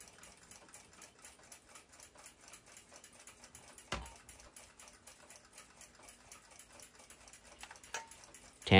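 A Shield clock movement being restored ticks with a steady, rapid, even mechanical rhythm as its gears mesh, close and fairly quiet, with a couple of sharper knocks near the middle and end.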